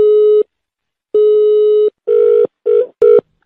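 A telephone sounds a steady electronic tone in a series of separate beeps, first two long ones and then three short bursts, loud and close, with no talking over it.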